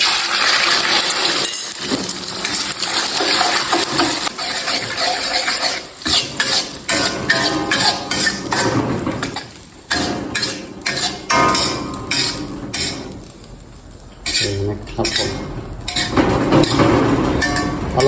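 Beaten egg with shrimp sizzles loudly as it is poured into a hot pan, while a utensil stirs and scrapes against the metal, with clinking and bubbling throughout.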